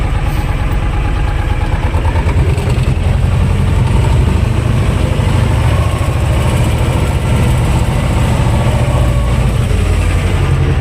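An old T-25 tractor engine running steadily and loud while clearing heavy snow, a continuous low rumbling drone close by with no break.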